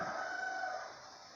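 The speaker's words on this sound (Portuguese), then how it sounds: "esses galos não são nossos" Roosters crow in a single drawn-out call, fairly clear and close, trailing off toward the end, with no one speaking.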